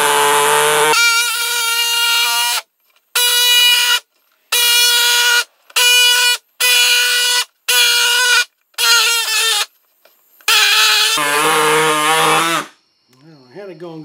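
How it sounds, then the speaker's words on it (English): A pneumatic saw cuts material for a sandblast cabinet vacuum system, running in loud, close, buzzing bursts separated by short silences, with a longer run near the end before it stops. "I'm going to use this pneumatic saw"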